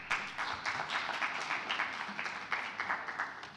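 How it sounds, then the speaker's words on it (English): Audience applause fills a conference hall as a speaker is welcomed onto the stage at an Algiers trade-fair session: steady, dense clapping from many hands at moderate distance, continuous throughout with small swells and no voices. "Please give him a warm applause."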